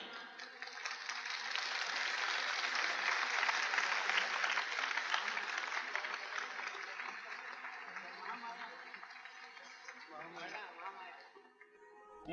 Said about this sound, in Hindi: आप लोग सब तालियां बजाइए